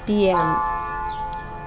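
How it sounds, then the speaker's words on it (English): A bell rings at seven in the evening, a single clear tone that sounds at the start and then fades into a long hum under steady background noise. "This is the bell. It's 7 o'clock."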